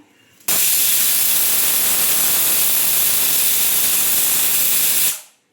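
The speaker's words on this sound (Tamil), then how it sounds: "மூணாவது விசில் வந்துட்டு நம்ம அதை இறக்கிடலாம்." A pressure cooker cooking vegetables and masala for toor dal sambar lets off a loud, sustained steam hiss for about four and a half seconds, starting abruptly and fading out at the end.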